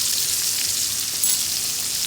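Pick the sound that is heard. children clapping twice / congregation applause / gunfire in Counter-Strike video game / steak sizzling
steak sizzling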